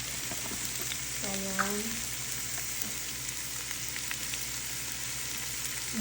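Purple cabbage and butternut squash sizzle and fry in butter in a pan, a steady, quiet crackle with faint stirring and a brief spoken word.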